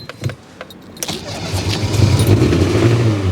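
Engine of a Dacia 1310 car cranking and catching, then settling into a steady, loud idle close by, with a few clicks before it starts.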